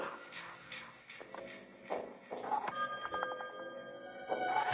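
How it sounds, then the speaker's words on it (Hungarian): A telephone rings in the Friday the 13th Killer Puzzle video game, a bright electronic trill of repeated pulses heard over soft shuffling game sounds. "Ja, telefon!"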